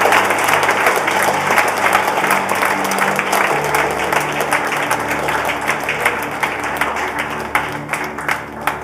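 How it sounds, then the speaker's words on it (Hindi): Church congregation clapping loudly for Jesus at a Hindi-English sermon, a sustained, dense burst of many hands close and continuous for several seconds, with a low steady hum underneath and no speech. "give a big clap"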